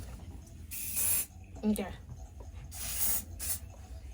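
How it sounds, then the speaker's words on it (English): Hair spray hisses out of an aerosol can in several bursts onto wig lace, each burst close and loud, with a brief spoken word between them. "So spray like that much on the back of your head."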